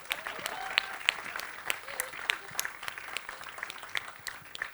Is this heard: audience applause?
yes